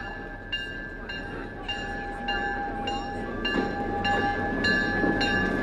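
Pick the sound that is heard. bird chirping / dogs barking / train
train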